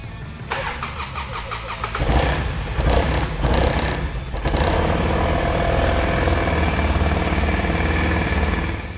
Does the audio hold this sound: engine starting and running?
yes